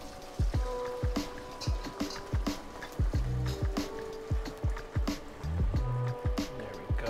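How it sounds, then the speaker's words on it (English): Fish stock pours and sloshes through a strainer in a run of repeated glugging splashes, with wet squishing as bones and solids settle. "We're gonna strain this out. See if we could pour it right in there."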